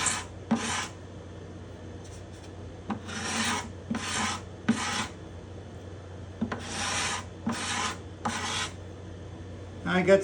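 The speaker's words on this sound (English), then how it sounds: "show you how quickly a sharp scraper can remove this excess wood" Sharp hand scraper shaving excess wood and some shellac from the bindings and purflings of a spruce guitar top, heard as about nine separate rasping strokes of roughly half a second each, in bursts with short pauses between, close up with no talking.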